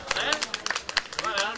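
Scattered hand claps ring out at a neighbourhood meeting in Bandol, a quick uneven patter of sharp slaps overlapping close, continuous talking voices.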